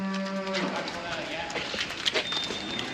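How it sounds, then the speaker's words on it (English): A cow lets out a short, low moo at the start in a field where heifers gather, followed by quieter rustling outdoor noise. "Where are you, cow?"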